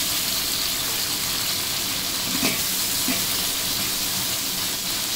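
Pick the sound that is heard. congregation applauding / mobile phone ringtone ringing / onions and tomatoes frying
onions and tomatoes frying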